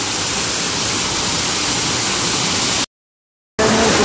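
Kurdkot waterfall in Deogarh pours as a steady, loud broadband roar of falling water, continuous and close, with a brief cut to silence near the end before the rush resumes.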